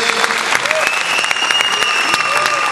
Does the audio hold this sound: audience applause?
yes